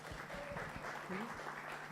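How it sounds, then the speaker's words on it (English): Audience applause at a youth forum on digital gender-based violence rises steadily for a speaker, with voices talking over the clapping. "Let's give her a round of applause."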